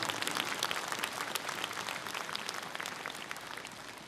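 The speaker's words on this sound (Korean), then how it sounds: "첫 번째로 연설해 주신 화엄사주지 덕문 스님께 저희 대중들의 동의, 동참의 결의를 담은 힘찬 박수를 다시 한번 보내주시기 바랍니다" A crowd at a national assembly of Buddhist monks in Korea gives rousing applause: thick, continuous clapping from many hands, strong at first and easing slightly over four seconds.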